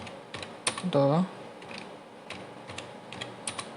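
Keystrokes on a computer keyboard while entering C++ code, a scattered run of separate clicks with a brief spoken syllable partway through.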